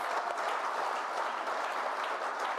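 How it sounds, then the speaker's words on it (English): Applause from the audience at a Brentford FC fans' forum, a dense, even round of clapping that holds steady throughout without talk. "I think that deserves a round of applause."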